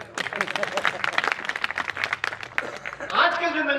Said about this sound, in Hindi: नहीं जोरदार तालियां।